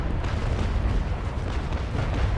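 Rolling ship cannon fire in the Naval Action video game, a USS Constitution broadsiding a Pavel, heard as a dense, continuous rumble of overlapping booms at steady loudness throughout, with no voices.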